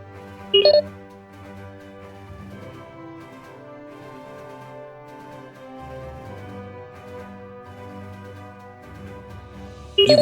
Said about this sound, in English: a text message comes through from Jax